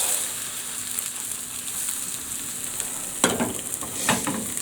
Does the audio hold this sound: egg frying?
yes